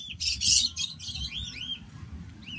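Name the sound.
pet cockatiel Harry calling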